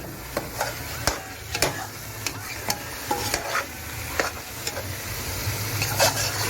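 Tomatoes fry in a pan with a continuous close sizzle, punctuated by a dozen or so quick stirring scrapes and taps at irregular intervals, clear and without talk.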